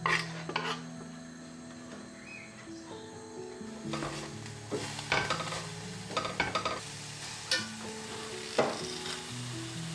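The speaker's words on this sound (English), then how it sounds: "In a pan, saute the pepper and the green onion for a couple of minutes" Pepper and green onion sautéing in a pan, a soft sizzle under repeated clinks and scrapes of a utensil against the pan, with sustained tonal hum in the background.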